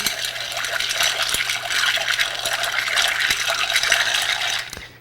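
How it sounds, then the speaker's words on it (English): Ice being stirred in a mixing glass for a Chaplin cocktail, a continuous close clinking, rattling and swishing of cubes against glass with a few sharp knocks, stopping at the end. "add our ice to our stir. And then stir well to chill."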